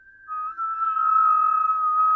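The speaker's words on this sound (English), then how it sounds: "do your last inhalation through the whistling and hold the breath in." A breath drawn in through pursed lips during a breathing exercise makes a steady, close, high whistling tone that rises in loudness over about two seconds and holds.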